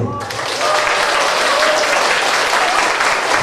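Applause at a medical university graduation evening for the pharmacy faculty in Ivano-Frankivsk, a loud sustained roar of many hands clapping in a hall that swells after the first moment and holds steady, with faint voices under it.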